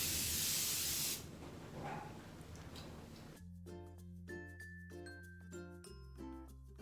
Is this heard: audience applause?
no